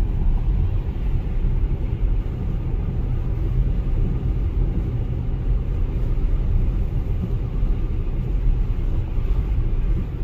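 Steady low road rumble and drivetrain hum inside a 2022 Ford Mustang Mach-E cruising on adaptive cruise control behind slowing traffic, a continuous even drone with no voices.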